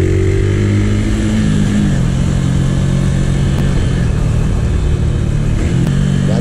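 A Macbor 125 cc motorcycle rides loud and close on a foggy day, its engine revving up and holding a strong, buzzing tone as it accelerates, with wind rush over the droning motor and no talk.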